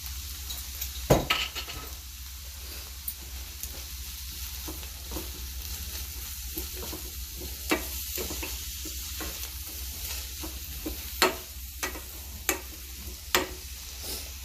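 Garlic and liver sizzle steadily in a hot pan for a stew, a constant close frying hiss broken by sharp clicks and scrapes of stirring and utensils against the pan.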